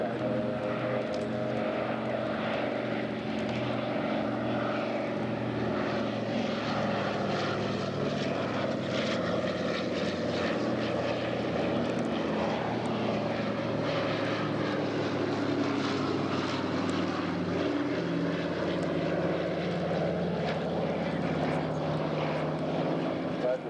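A historic propeller aircraft drones continuously overhead at the Shellharbour airshow, a steady rumbling engine tone mixed with distant crowd ambience, captured on a 1990s camcorder.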